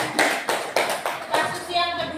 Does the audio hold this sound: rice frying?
no